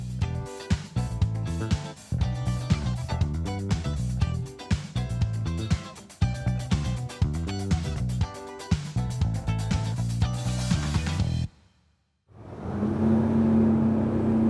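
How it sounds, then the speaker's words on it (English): A Chris-Craft Corsair 34 motorboat engine roars steadily and loudly with rhythmic pulsing, cuts out briefly near the end, then resumes with a sustained droning hum. "Did you hear? What a roar."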